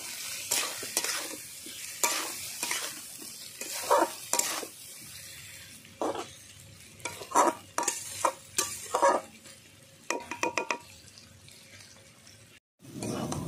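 Spices with turmeric powder and salt being stirred and fried in a pan for a rohu fish curry, with repeated scraping strokes of a spatula over a soft sizzle, fairly close.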